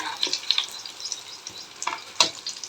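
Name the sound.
batter-dipped poornam boorelu frying in oil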